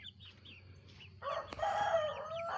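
A rooster crows nearby in a garden on a morning, a drawn-out strained call rising over quiet background chirps and faint clucking.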